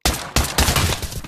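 An AK rifle in the VR shooter Pavlov fires a rapid burst of loud, close shots, several sharp cracks in quick succession over about a second.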